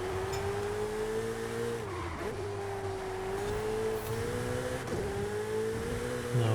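A race car in the Forza racing game holds a steady, loud engine drone at full throttle, with brief dips as it brakes hard into corners. No one speaks.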